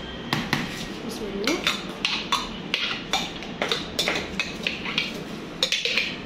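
Repeated clinks of a spoon tapping against a bowl while spooning in mayonnaise, about a dozen light metallic knocks at an uneven rhythm, close by.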